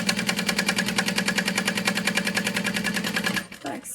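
Domestic sewing machine stitching a zipper seam on a fabric bag: a close, steady, fast rhythmic whirring of the needle that runs continuously, then stops abruptly near the end.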